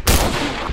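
A single loud, close gunshot blasts from a weapon in the horror video game Cry of Fear, an abrupt crack followed by a short roaring decay.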